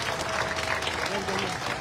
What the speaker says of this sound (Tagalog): Pumalakpak ang nagmamahal sa ating bayan.